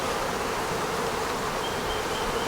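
Honeybees drone steadily inside a swarm trap box checked from a step ladder, a dense, continuous buzzing that stays close and even throughout, with no voices.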